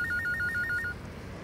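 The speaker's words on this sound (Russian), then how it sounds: "Я не выключил звонок мобильного телефона." A mobile phone ringtone trills in a steady repeating pattern of short electronic pulses for about a second, then cuts off, leaving a low room hum in an indoor drama scene.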